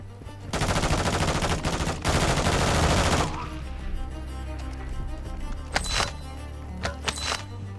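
Automatic gunfire from the Warzone 2.0 DMZ video game, a long, loud sustained burst of rapid shots, then after a short lull two brief separate volleys.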